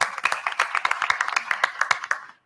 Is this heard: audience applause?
yes